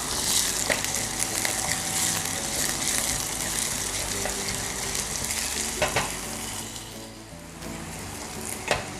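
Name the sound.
onion sautéing and sizzling in a pan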